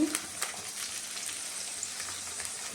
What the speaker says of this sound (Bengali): তেলে দেব কালি জিরা, সামান্য কাঁচা লঙ্কা, আলু,